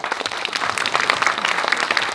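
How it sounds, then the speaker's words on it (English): An audience at a London event claps for young volunteers on stage, a steady dense burst of applause filling the room throughout, with no speech over it. "Please give them a big round of applause."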